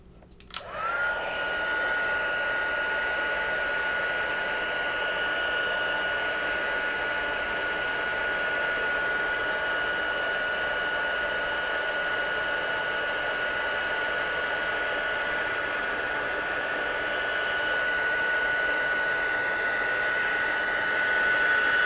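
A heat tool blows hot air in a steady, loud, continuous whoosh that starts abruptly and runs unbroken, close by, with no talking.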